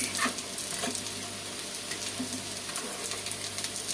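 Nettle köfte meatballs fry in a pan of oil with a steady, close crackling sizzle and occasional soft pops, and no one speaks.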